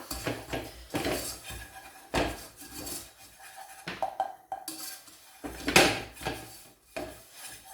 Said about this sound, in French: J'ajoute la farine et on va bien mélanger.